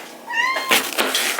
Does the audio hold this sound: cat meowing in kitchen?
yes